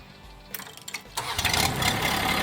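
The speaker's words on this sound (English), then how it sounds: "all we did was we cranked it over, we spit fuel in there, and we didn't actually combust it" A diesel engine on Groundhog equipment cranks over with throttle applied, starting as a low starter rumble and rising into a steady, loud churning roar that continues to the end.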